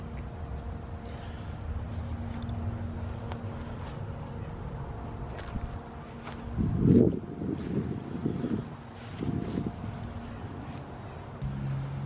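Steady wind blows on a blustery day outdoors near smoking Halloween decorations, a continuous rushing buffet on the microphone with a few louder gusts swelling midway.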